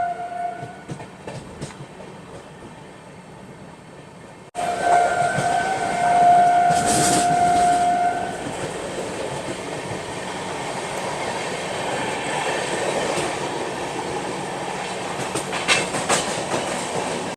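A Ranchi Rajdhani Express train runs on the Ranchi–Lohardaga route at dusk, with a loud continuous rumble and rhythmic rail clatter, a sudden rise in volume partway through, and a brief high whine, without any speech.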